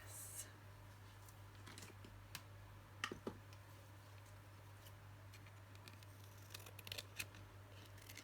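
Scissors snip quietly up close, trimming excess paper or card in a craft tutorial. A few faint, separate clicks and snips sit over a low steady hum.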